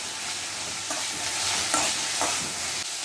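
Okra fries with salt in a spoonful of oil for a coconut and mango fish curry, a bright, steady sizzle with soft stirring scrapes close by.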